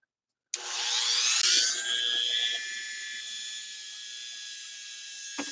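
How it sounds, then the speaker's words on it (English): Dremel rotary tool buffing a guitar with very fine rubbing compound, a steady high whine that starts abruptly and holds a continuous pitch, close and fairly loud, with faint scraping friction and no voices. "So what I've got here is a Dremel and a bit of very fine rubbing compound."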